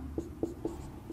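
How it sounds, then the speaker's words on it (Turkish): Chalk or marker tapping and scraping on a classroom board during a history lecture, four or five short distinct strokes close by with no speech. "şuraya hemen yazıyorum"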